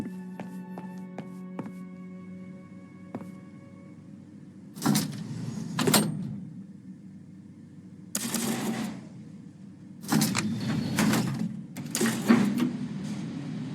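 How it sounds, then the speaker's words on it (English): Elevator ride in the video game Call of the Elder Gods, with mechanical whirring and clanking bursts repeating at intervals over a low steady hum, fairly loud and close, with no voices. "As he rode the elevator up"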